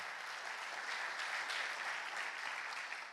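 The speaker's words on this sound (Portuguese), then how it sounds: "Pode aplaudir o Senhor" A church congregation applauds for the Lord during a Portuguese-language sermon, steady, even clapping that fills the room for about three seconds, fairly distant and soft, with no voice over it.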